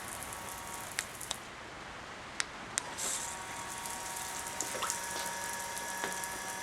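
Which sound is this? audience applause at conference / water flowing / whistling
water flowing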